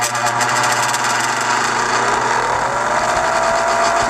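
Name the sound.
Ashland industrial bench grinder running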